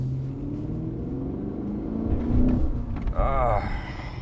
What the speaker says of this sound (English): the engine note